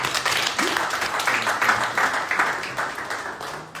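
An audience at an investment meet-and-greet in Glasgow claps together, with steady, moderately loud applause from a roomful of people throughout and a faint voice briefly audible beneath it.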